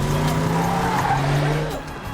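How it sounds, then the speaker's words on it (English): Several vehicles' tires squeal loudly in one continuous skid, with engines roaring close by, as they break through a barricade. "3 vehicles just broke through the barricade"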